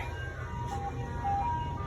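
An ice cream truck's jingle plays as a thin, high melody of a few repeated notes over a steady low rumble, moderately near and fairly quiet.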